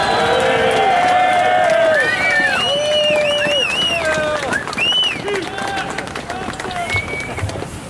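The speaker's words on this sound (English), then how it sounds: "please join me in thanking Phil Hoffmeister for his efforts with a big round of applause" A crowd at a pro-gun rally in Lansing, Michigan cheers and claps for a speaker, loud shouts and whoops riding over a dense bed of applause that slowly eases.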